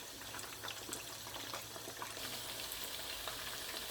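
Chicken pieces for chilli chicken fry in a pan, a continuous soft sizzle and crackle of hot oil, close but quiet, with no voices over it.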